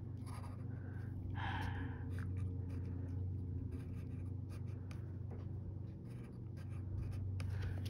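A pen scratches steadily on paper while Spider-Man webbing is drawn, giving close, continuous stroking and scratching with a constant low hum beneath and no talk.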